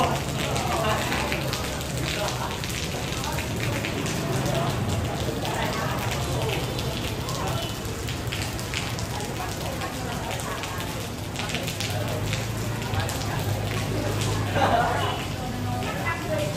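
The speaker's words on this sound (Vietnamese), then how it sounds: "trời đang mưa." Steady rain falls outside a restaurant in Cambodia, a continuous soft patter and hiss that runs throughout, with people talking nearby over it.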